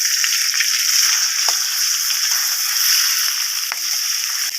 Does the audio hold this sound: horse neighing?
no